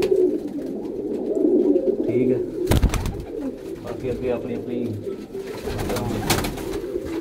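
Pigeons cooing in a loft of racing pigeons, a steady low throaty murmur from several birds close by, running under a man's conversational speech with a few sharp knocks.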